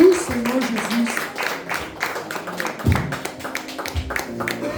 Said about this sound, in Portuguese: vai glorificando a Deus com uma salva de palmas